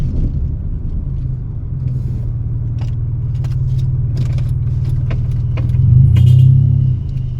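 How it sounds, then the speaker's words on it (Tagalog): A car passes by outside a home, a steady low engine rumble that swells louder near the end before easing off, with faint scattered clicks and rattles above it. "Wala, may sasakyan."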